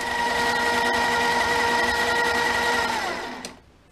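A mini lathe spins at 625 RPM with a steady, loud motor whine and hum that holds evenly, then winds down and fades near the end; no talking.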